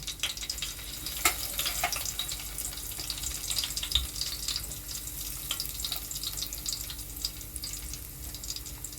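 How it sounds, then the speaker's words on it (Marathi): Cumin seeds crackle and sizzle in hot oil for a Marathi tempering, a close, continuous hiss with scattered sharp pops and spits, and no voices. "तेल तापलं की फोडणीला जिरं टाकायचं"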